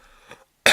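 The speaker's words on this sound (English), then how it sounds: "my cough's still here" A single short, close cough bursts out abruptly after a brief moment of near silence.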